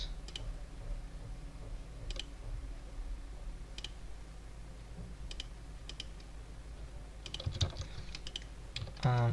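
Scattered clicks from a computer keyboard during CAD modeling, sparse single key presses and short bursts over a quiet room hum, fairly faint.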